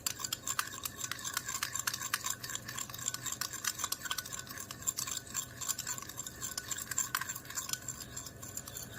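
Steady scraping and swishing of a utensil stirring a creamy saffron niacinamide face cream mixture in a bowl, continuous and close with no voices.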